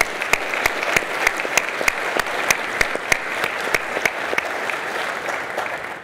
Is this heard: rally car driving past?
no